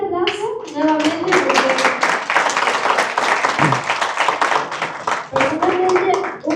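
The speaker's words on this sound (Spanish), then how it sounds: "Un fuerte aplauso nuevamente" Strong applause for José, a guest at an entrepreneurship talk, loud and close, a dense wash of clapping hands with voices talking over its start and end.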